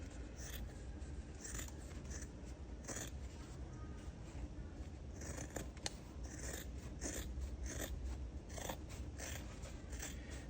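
Scissors snip repeatedly through thick bag fabric, a series of crunchy cuts in an uneven rhythm, fairly quiet and close.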